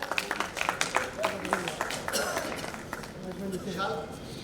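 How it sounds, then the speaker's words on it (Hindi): Applause from a gathering welcoming guests at a religious event. Quick, close claps come in rhythmic bursts that fade as voices take over, and people talk throughout. "जोरदार तालियों से स्वागत"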